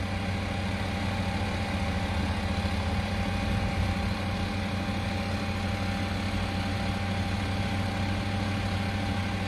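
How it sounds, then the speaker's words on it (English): An unattended truck sits with its engine running, giving a steady, continuous idling rumble with a low hum that holds even and unbroken throughout, with no voices. "There's no one in the truck. It's just left there, engine running,"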